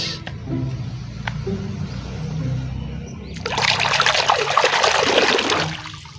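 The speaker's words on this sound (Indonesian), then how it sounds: "Wow, ini ada air bersih teman-teman. Ayo langsung kita cuci." Clean water trickles and then pours more heavily for a few seconds while toy vehicles such as race cars, trucks and trains are washed, alongside faint handling clatter.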